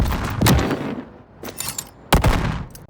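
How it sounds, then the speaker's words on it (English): Redesigned sci-fi game effects for Mortal Kombat 1 fire in quick bursts: full, punchy gun blasts and explosive booms layered with whooshing thruster bursts, loud and close, with three main impacts spaced across the passage. "I think the thrusters are sounding good, the gun and explosion sound pretty full"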